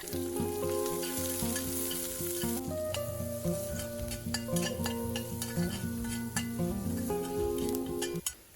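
Sliced onion dropped into hot oil after mustard seeds have spluttered, giving a steady, close sizzle with occasional stirring scrapes, heard under background music.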